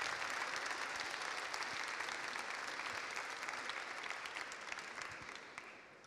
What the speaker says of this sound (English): please, an extraordinary round of applause for this gallop across history